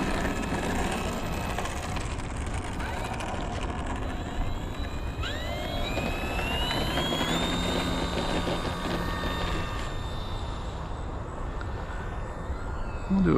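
An FMS PA-18 1700mm Super Cub RC plane drones steadily overhead as its electric motor whines, with the pitch sliding upward midway, all against a busy outdoor background.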